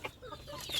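A short, faint burst of hen clucking, soft and somewhat distant, with a thin high chirp near the end.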